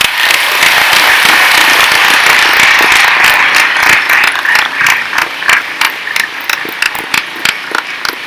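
Audience applause at a high school Veteran's Day program, dense sustained clapping from a crowd that thins out into scattered individual claps toward the end, loud and near.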